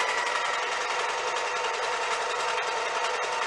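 A sewing machine runs fast and steady in one continuous, close, buzzing whir with a fine rapid pulse of the needle, uninterrupted and alone.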